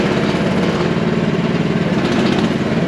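A cheap mini excavator's small engine runs steadily at low throttle, a close, loud, even mechanical drone with a fast rhythmic chug and no voices.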